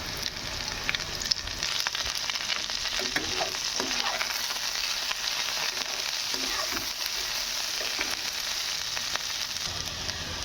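Onions sizzle and crackle with fried potatoes in a pan, a continuous close frying hiss with occasional stirring scrapes.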